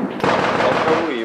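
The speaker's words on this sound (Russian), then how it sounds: "Это как минимум САУ." A self-propelled artillery gun fires with a single sudden heavy boom that rolls into a long rumbling reverberation, loud and close, before a whining tone rises at the tail.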